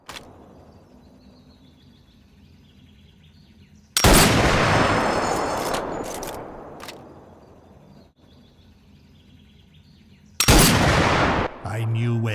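Two loud rifle shots from a World War I-era Carcano M91 in a virtual-reality sniper game, each a sharp blast with a long decaying tail, a few seconds apart over quiet ambient background.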